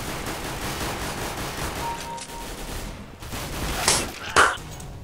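Gunfire in the video game CS:GO comes as a steady rolling wash of distant shots. Two louder, sharper bursts stand out near the end.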